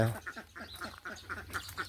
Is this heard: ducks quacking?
yes